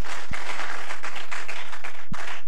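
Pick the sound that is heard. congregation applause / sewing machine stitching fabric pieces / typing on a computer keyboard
congregation applause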